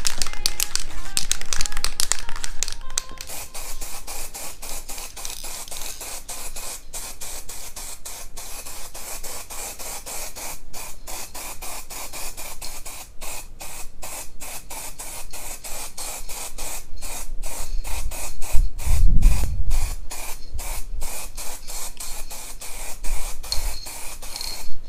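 A coat of spray paint goes onto a VW Golf GTI part in a continuous series of short, close hissing bursts with a faint rattle underneath and no voices.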